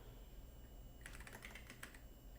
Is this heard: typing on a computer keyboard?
yes